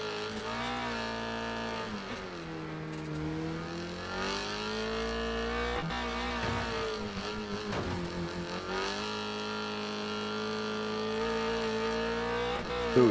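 Onboard engine note of a race car in Wreckfest 2 during a Revline ranked race: the motor howls loudly and steadily, rising and dipping through gear changes and throttle lifts over a constant roar, with no voices.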